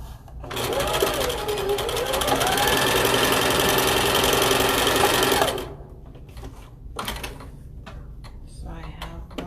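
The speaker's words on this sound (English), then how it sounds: "So I have my 2-inch measurements and I'm going to make a straight stitch." A sewing machine runs a straight stitch on a fabric lunch bag, a loud, steady close whir for several seconds that stops abruptly, followed by quieter handling clicks and movement.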